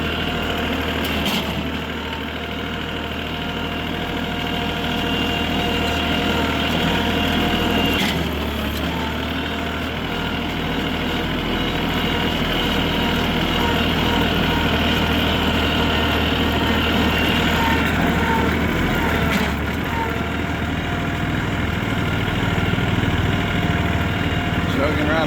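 A four-wheeler's engine chugs along at a steady, continuous low throb for the whole stretch, close by, with a few brief knocks and possible faint talk underneath.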